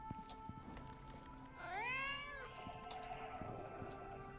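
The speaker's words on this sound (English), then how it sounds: "That's annoying from the cat there." A single drawn-out cat meow from the Icarus survival game, near and moderately loud, rising then falling over about a second amid faint game ambience and soft footsteps.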